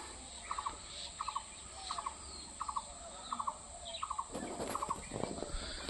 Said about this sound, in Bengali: ওইটা একটা পোল্ট্রি ফার্ম।